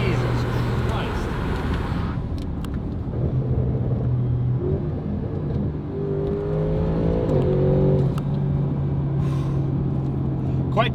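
Audi RS7 fitted with a Valvetronic Designs exhaust and Unitronic sport-cat downpipes, its engine droning and rising in pitch as it revs, a steady loud rumble that swells toward the end.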